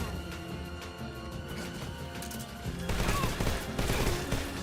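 Guards in Metal Gear Solid 3 remake open fire, a loose spatter of distant shots that thickens in the last two seconds, sitting under steady background music and ambience.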